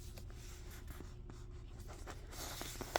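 Origami paper being folded across and creased while shaping an origami ball, soft scattered rustles and scrapes of the sheet over a steady low room hum.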